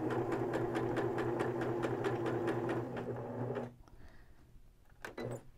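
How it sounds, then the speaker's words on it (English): A sewing machine stitches down a line of fabric, a fast, even mechanical chatter with a steady hum, running close for about three and a half seconds before stopping, followed by a couple of soft clicks. "we're going to start right here at our edge. We're going to stitch down our line."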